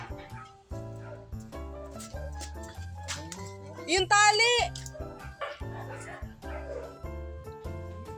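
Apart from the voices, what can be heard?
dog barking and whimpering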